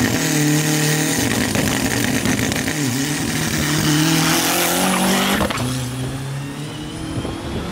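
A tuned, naturally aspirated Fiat Uno accelerates hard at close range, its engine note climbing through the revs, dropping briefly at each gear change and rising again, loud and raspy with no talk.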